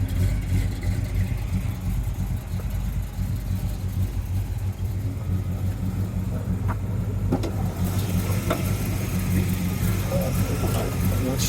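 A 1988 Chevy Monte Carlo SS with a 400 four-bolt-main engine, headers and aftermarket intake idles steadily with a low, even rumble, while someone talks over it.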